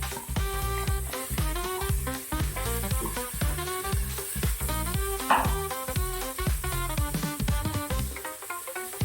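Chopped vegetables for pav bhaji (leafy greens, peas, capsicum, cauliflower, potato) sizzling loudly in a pan, a steady frying hiss with repeated clattering stirs throughout.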